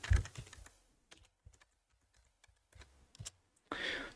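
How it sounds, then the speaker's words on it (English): Keystrokes on a computer keyboard come in short irregular bursts with brief pauses between them, close and clear, ending in a louder rustling burst. "Or let me just type it in the chat."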